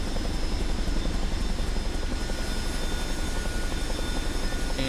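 A CH-47D Chinook helicopter taxiing in the video game MSFS 2024, with a dense, steady rotor and turbine roar and a rapid rhythmic thump, loud and continuous with no talk.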